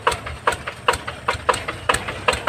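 A farm tractor-style engine pulling a cassava cart idles with a steady, pulsing knock, several beats per second, loud and close with no voices.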